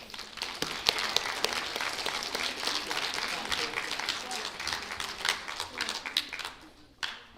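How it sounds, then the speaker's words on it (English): A small group at a school spelling bee applauds steadily for several seconds, the clapping close and moderately loud before tapering off. "Give him a round of applause."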